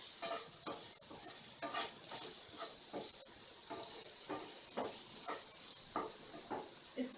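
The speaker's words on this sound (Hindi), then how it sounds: "सबको हम अच्छे से मिला देंगे।" Amchur powder is stirred into masala idli fry in a pan, with soft, repeated scraping strokes over a light sizzle, quiet and steady throughout.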